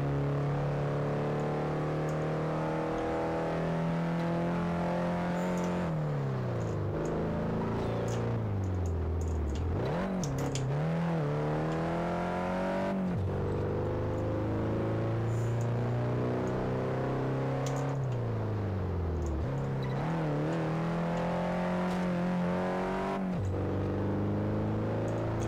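Car engine in Test Drive Unlimited 2, a loud, close engine climbing in pitch through several gears, each shift a sudden drop before revving up again, continuous with no talk.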